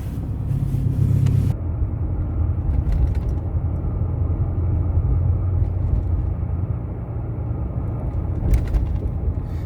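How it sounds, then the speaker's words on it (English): A RAM 1500 with a 5.7 HEMI V8 and deleted muffler drones loudly while driving around town, a deep, steady exhaust rumble from inside the cab with no talk. "But like accelerating light to light, it's definitely pretty loud."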